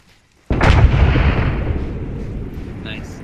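A loud explosion from the Arma 3 military video game bursts in suddenly after a short quiet moment, then rumbles and fades slowly over a few seconds, with a faint sound near the end.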